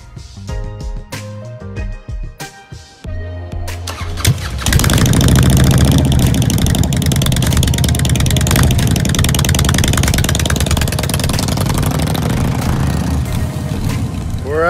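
Car engine running while driving to a dim sum restaurant in Monterey Park: a steady, loud, broadband engine and road roar that starts after a few seconds of choppy sounds and holds evenly to the end, with no speech.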